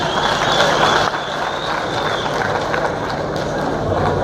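Applause from a political rally crowd in Kenya, a dense sustained clatter of many hands that stays loud and steady throughout, with some crowd noise mixed in.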